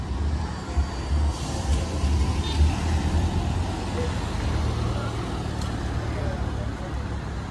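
A Wagon R car approaches at a roadside bus stand, its low engine rumble and road noise steady and close throughout, with a voice talking over it.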